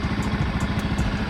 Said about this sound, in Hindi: बाइक स्टार्ट करके रखनी पड़ रही है